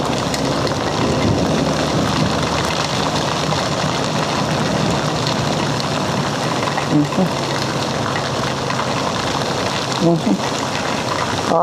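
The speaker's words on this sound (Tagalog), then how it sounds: "Grabe yung baha, no? Guys, grabe baha." Floodwater rushing through a street during a flood, a loud continuous roaring gush that fills the whole stretch, with faint voices underneath.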